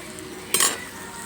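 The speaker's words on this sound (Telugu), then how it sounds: "టమాటా బాగా వేగనివ్వాలి" Tomatoes frying with onions for mutton curry make a soft background sizzle, cut by one short metallic scrape of a spoon against the pan.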